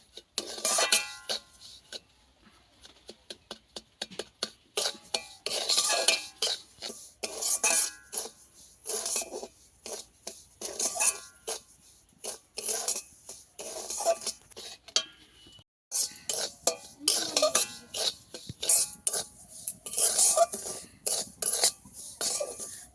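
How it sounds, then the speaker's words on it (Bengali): Semolina dry-roasting in a pan with a little ghee gets stirred with a metal spoon, making repeated close scraping and clinking strokes in irregular bursts, with a brief pause partway through and no talking. "একদম হালকা আছে ভেজে নিতে হবে সুজিটাকে।"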